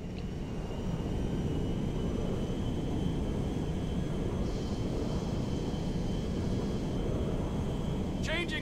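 A Merryweather cargo jet flying in GTA 5 gives off a steady, loud roar of engine and wind rumble that holds throughout, with a brief chirp of radio noise near the end.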